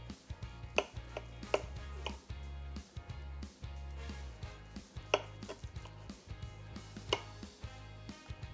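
A knife slices through a glazed pork tenderloin on a board, giving a series of sharp, irregular cutting taps with low kitchen rumble beneath, close and fairly quiet, with no talking.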